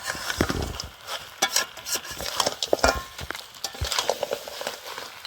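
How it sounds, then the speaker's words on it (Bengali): Goat head meat and potatoes stir-fried in spiced paste in a pan, with irregular scraping and clattering stirring strokes, close and moderately loud, over a soft frying sizzle. "আলুটা দিয়ে আমি আর কিছুক্ষণ কষে নেব"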